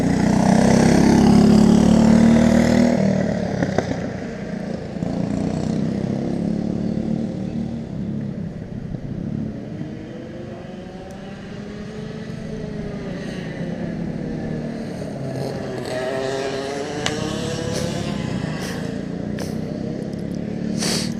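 Racing go-kart engines whine around a track, one kart loud and close at first, then several buzzing engines rising and falling in pitch as they pass at varying distances, with no talk.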